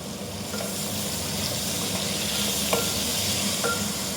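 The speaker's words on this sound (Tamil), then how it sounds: "கேரட், காளான் இவங்கெல்லாம் நல்லா விட்டு வதக்கி எடுத்துக்கோங்க." Carrots, mushrooms and other vegetables sauté in a pan for a healthy breakfast, giving a steady close sizzle with a few soft scraping stirs and no talk.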